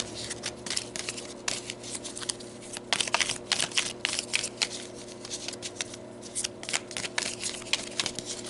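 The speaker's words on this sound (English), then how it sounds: "I'm going to start shuffling" A deck of cards being shuffled for a yes/no spirit reading, with repeated crisp riffling bursts in an irregular rhythm, close and fairly quiet, with no talking.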